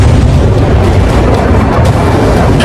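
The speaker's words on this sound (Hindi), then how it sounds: "हमास के आतंकियों ने ताबड़तोड़ रॉकेट दागे" Rockets fired by Hamas explode over Israel in a loud, dense rumble of blasts and booms, heavy low thunder rolling continuously with scattered sharper bursts and no pauses.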